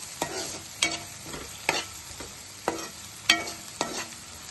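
Chili masala sizzles in oil for a dhaba-style cauliflower curry, with a steady frying hiss and a spoon scraping the pan in regular strokes about every half second to second, close and clear.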